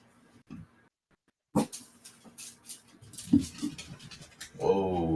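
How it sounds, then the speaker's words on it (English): A dog whimpering and scrabbling about frantically in a room, with brief thumps and scratching bursts followed by rising whines, growing louder toward the end. "Dog's going out of control."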